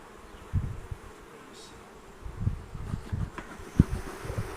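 Honeybees hum softly around an open hive, a low steady buzz with a few louder swells as insects pass close, alongside faint rustling and handling noises.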